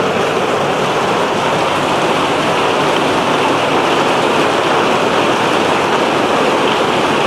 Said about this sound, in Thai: วันนี้ฝนตกหนักๆมา